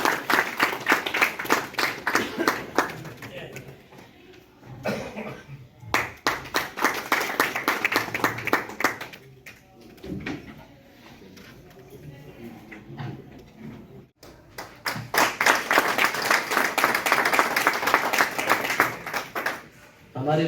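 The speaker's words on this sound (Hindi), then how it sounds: "तालियां से स्वागत करेंगे आप" An audience welcomes a guest with applause at an outdoor event in a Supreme Court courtyard. Waves of steady clapping are separated by stretches of someone talking over a loudspeaker, and the final burst of applause is the loudest.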